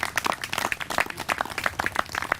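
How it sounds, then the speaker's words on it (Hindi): A crowd at a yoga gathering gives the children hearty applause, many hands clapping in a brisk, steady patter close by, with no voices over it. "एक बार जोरदार तालियां बजाओ इन सब बच्चों के लिए।"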